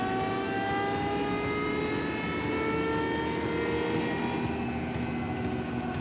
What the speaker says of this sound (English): Step 2, the rotor will begin to spin at minimum speed. Step 3, the rotor will increase to max speed.